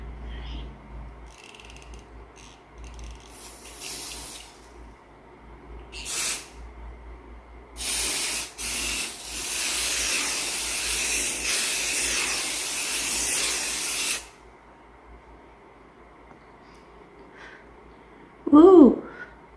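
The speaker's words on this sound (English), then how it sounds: "It's got a nice spray." A short hiss of spray, then a steady fine mist from a setting-mist spray bottle spraying for several seconds, close by, with faint background noise.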